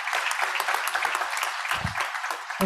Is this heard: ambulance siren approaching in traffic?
no